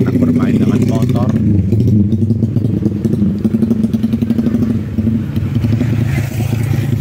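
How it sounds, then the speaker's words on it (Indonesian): Motorcycles ridden by children in a village, engines puttering and revving loudly up close with a steady rumbling, fluttering rhythm, and voices talking over the engine noise. "Anak-anak bermain dengan motor."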